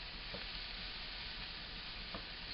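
Onions frying in oil in a pan for chicken au parmesan, a steady close sizzle with occasional stirring scrapes.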